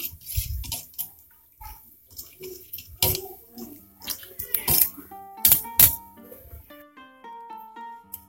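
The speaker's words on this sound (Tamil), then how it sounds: "இந்த புளி கரைசலோடு இதை ஆட் பண்ணியாச்சு. நல்லா ஒரு மிக்ஸ் பண்ணிக்கலாம்." Tamarind water for rasam is mixed by hand, giving intermittent wet swishes and sloshes close up, followed by a light tonal melody near the end.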